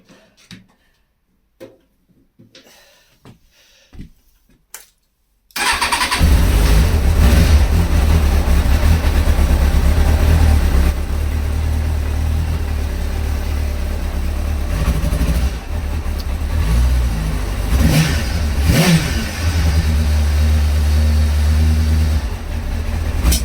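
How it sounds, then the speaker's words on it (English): A Kawasaki ZX6R 636 A1P motorcycle with a misfire fault starts after a few quiet clicks and runs loud and close, its engine roaring and revving unevenly with rough pops and stumbles from backfiring through the carburetors. "and it's backfiring through the carburetors again."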